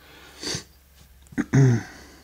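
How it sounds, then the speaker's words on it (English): A couple of short sniffs through the nose, close by, followed by a brief nasal snort in an otherwise quiet room. "Sorry for the sniffs."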